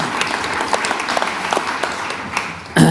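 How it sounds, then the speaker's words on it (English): An audience applauds a speaker from Tesco at a conference, sustained crowd clapping filling the room for nearly three seconds before a sudden louder sound cuts in at the end. "Can we give George a round of applause?"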